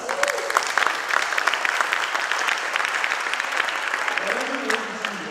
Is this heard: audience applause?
yes